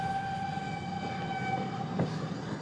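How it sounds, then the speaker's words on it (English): A distant train rumbles with a steady low roar, heard from a former railway walking route in Britain, and a sustained horn-like tone hangs over it before a brief knock near the end. "I can hear trains."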